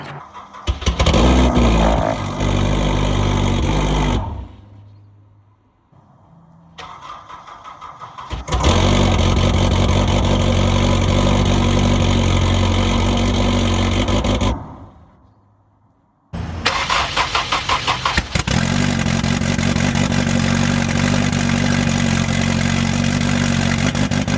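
A Honda S2000 with a hood exit pipe cold-starts three times, each time catching into a loud, steady idle, with short quiet pauses between the runs.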